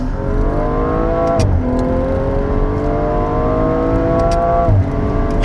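A tuned 390whp BMW M135i accelerates hard from inside the cabin, engine note climbing steadily and dropping sharply at two quick paddle upshifts, loud and continuous with no talking.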